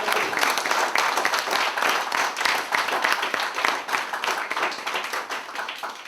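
Dense, steady applause from a school quiz audience fills the room, many hands clapping together at close range throughout with no break.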